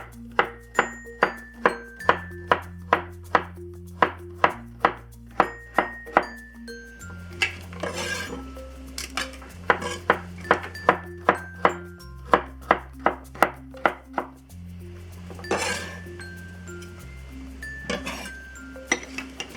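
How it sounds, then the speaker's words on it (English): A knife slices food into quarter-inch diagonal pieces on a cutting board, with steady bursts of crisp chops in quick runs over background music. "And I just cut it into about a 1/4 inch diagonal."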